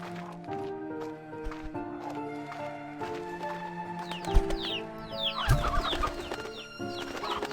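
Painted hen clucking in the video game Slime Rancher 2, short bird calls and clucks over layered game music and ambient effects, with a busier flurry of chirps near the end.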